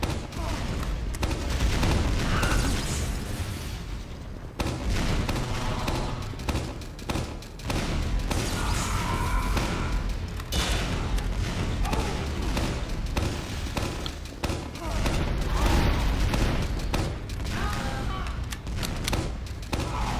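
Demoman grenade explosions in the video game Team Fortress 2 come amid a dense, continuous barrage of gunfire and booming blasts, loud and chaotic throughout with faint voices underneath.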